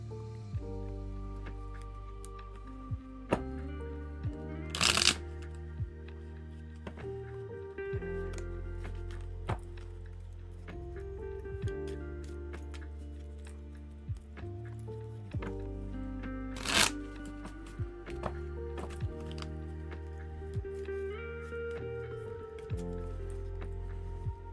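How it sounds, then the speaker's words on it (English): A deck of tarot cards is shuffled close by, with repeated soft riffling and squishy card slaps and a few sharper snaps, over a quiet, steady musical background. "Let's give these a quick shuffle and then we'll continue."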